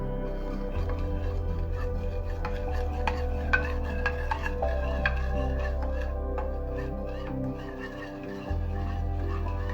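Zucchini and Brussels sprouts are stirred in a pan with a utensil, producing steady close scraping and clinking against the metal over a low background hum, with no talking.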